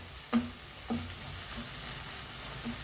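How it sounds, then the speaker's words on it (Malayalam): Chilli and spices fry in a pan with a steady sizzle, while a few sharp scrapes of stirring knock against the pan near the start and again toward the end, with no voices over it. "ഇതൊക്കെ ഒന്ന് ഇളക്കി കൊടുക്കാം"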